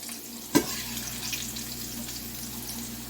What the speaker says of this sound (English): it fries up just like summertime squash